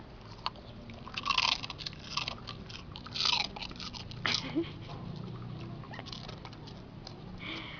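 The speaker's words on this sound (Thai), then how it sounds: "นี่ก็เป็นการให้ขนมกบเคี้ยวนะคะสำหรับเจ้าสามตัวนี้" Three dogs crunch and gnaw on crunchy chew treats up close, with irregular bursts of biting and chewing over quiet background sounds.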